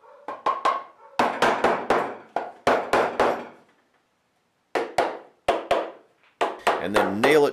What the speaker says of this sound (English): nail it together with brads and this girly little crossbeam hammer